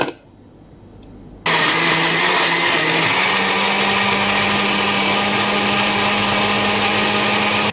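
A blender whirs loudly and steadily as it purées red apple with juice into a weight-loss detox drink, switching on abruptly after a quiet moment and holding a constant roar to the end.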